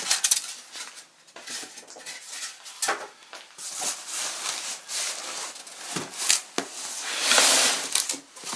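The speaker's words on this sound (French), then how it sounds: "on va ouvrir ce petit colis" A small parcel is handled and opened up close, with crinkling, tapping and scraping noises of packaging and contents in irregular bursts, loud and near with no talking.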